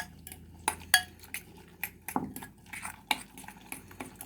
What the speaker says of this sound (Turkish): Bunu güzelce baharat her yerine iyice sinecek şekilde karıştırıyorum.